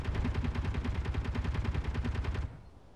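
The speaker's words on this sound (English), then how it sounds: "We'll strafe this wall a bit." Rapid automatic weapon fire strafes a heavy armour wall in the Space Engineers video game, a dense, steady stream of shots lasting over two seconds before cutting off abruptly.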